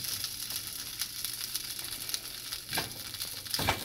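Food sizzling gently in a covered pan over a low flame, a soft continuous frying hiss with occasional louder crackles and pops, no talking.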